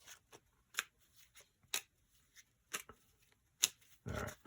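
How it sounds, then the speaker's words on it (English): Playing cards being shuffled and handled at a game table, a string of quiet crisp riffles and flicks spaced about a second apart, ending in a brief louder burst of rapid riffling. "I got to shuffle the cards again"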